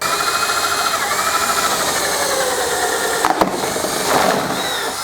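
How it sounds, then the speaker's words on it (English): A steady, continuous mechanical whir of a power drill boring 5/8 inch holes in PVC pickets nearby, with a brief clatter partway through and a slight rise in pitch near the end. "I'm going to drill a 5/8 inch hole centered in each picket"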